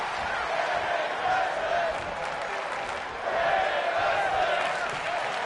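A capacity crowd cheers and applauds through a women's wrestling event on a touring pro wrestling show, a steady wash of noise that swells midway, with a commentator's voice over it.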